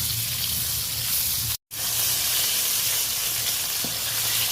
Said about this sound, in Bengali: অল্প অল্প মাছ দিয়ে নেড়ে চেড়ে বেশ লালচে করে মাছগুলোকে ভেজে নিতে হবে